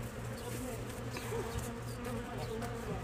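Remnant bees from a shed hive buzz in a dense, continuous drone, a swarm of wings humming close by at low volume, with scattered individual passes rising and fading.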